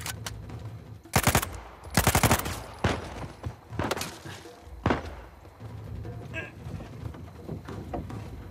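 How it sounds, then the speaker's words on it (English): Enemy fire in Uncharted 4 comes in loud sharp bursts of automatic gunfire, several volleys in the first half with heavy thuds between, then tapering to scattered distant shots and ambient noise. "Where's this guy shooting me from?"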